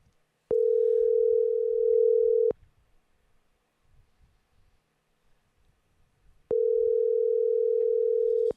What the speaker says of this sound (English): You should call Owen now, right?